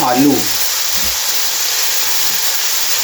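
Vegetables fry in a hot pan for a vegetable kadhi, giving a steady, even sizzling hiss throughout. A brief voice-like sound comes at the very start.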